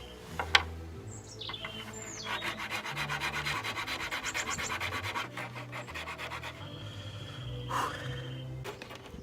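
Wooden ring being shaved and sanded by hand, a steady rasping rub through most of the clip, with a sharp knock near the start and birds chirping faintly outdoors.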